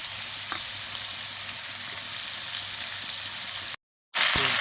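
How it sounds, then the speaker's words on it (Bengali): Grated papaya sizzles in hot oil with fried potato, a continuous loud frying hiss with faint stirring scrapes, broken by a brief silent cut near the end. "গ্রেট করে রাখা পেঁপেগুলো আমি ওর মধ্যে দিয়ে ভেজে নেব"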